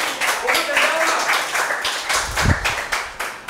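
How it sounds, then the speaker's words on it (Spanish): Applause for doña Zulay from a small gathering: a few seconds of moderately loud, slightly uneven hand claps with voices talking over them. "Otro aplauso para doña Zulay"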